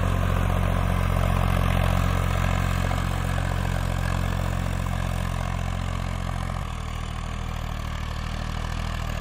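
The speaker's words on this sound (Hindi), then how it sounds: "दूसरे के हाई गियर में बहुत अच्छा चल रहा है, कोई भी RPM ड्रॉपेज नहीं है ट्रैक्टर की" A Massey Ferguson 241 DI tractor in second high gear pulls a 9-tine cultivator, its diesel engine droning steadily and loudly with an even, low hum that drops slightly in tone late on.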